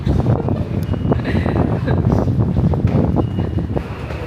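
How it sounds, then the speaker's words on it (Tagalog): Strong wind buffets the microphone in steady, rumbling gusts outdoors in Akihabara, Japan, filling the whole stretch, loud and close, with no other clear sound standing out. "mahangin ah"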